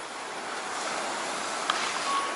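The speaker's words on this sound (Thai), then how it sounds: "ซัดสาดเสียงคลื่นซัดสาด" Sea waves wash onto the shore at night beside a Phuket lagoon resort, a steady close surf roar with a few faint brief clicks and no talking.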